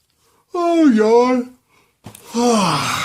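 A man yawns twice, a long drawn-out voiced yawn with a falling tone followed after a short pause by a second, breathier yawn, close and fairly loud with no other speech.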